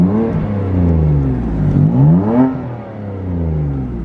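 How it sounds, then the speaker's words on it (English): A BMW F80 M3 with a catless exhaust and a single mid pipe, revved while standing still in efficient mode with one valve open, heard from inside the cabin: a deep engine drone rising and falling through two rev swells. "give you guys some standing revs from inside the cabin so you guys will be able to hear what it sounds like"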